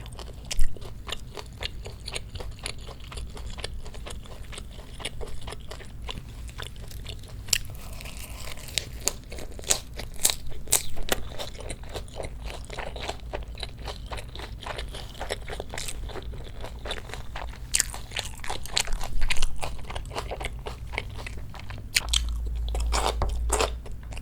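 Close, continuous crunching and chewing of pork bulgogi wrapped in fresh vegetables, with chonggak kimchi and fried egg, bite after bite with leafy crinkles and wet mouth sounds and no talking.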